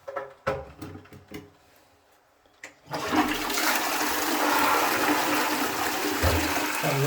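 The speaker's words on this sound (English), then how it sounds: "I don't know, is that toilet draining?" Toilet flushing loudly at close range after a few knocks and clicks, water rushing and gurgling steadily down the pipe, on a site where the toilet is leaking and draining with an odd noise.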